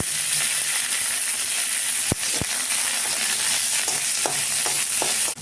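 A tempering of mustard seeds and curry leaves fries in ghee in a wok for suji upma, an even sizzling hiss punctuated by a few sharp spoon knocks and light stirring scrapes.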